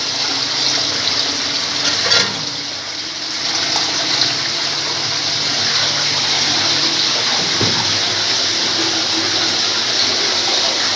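A submersible pump draws water up from a drilled hole at a horizontal drilling site, making a loud continuous rush and gush of flowing water with a low mechanical hum, steady throughout and close by.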